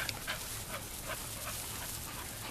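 Dog panting close by, a quick steady rhythm of short breathy huffs that continues throughout, fairly loud, with no talking.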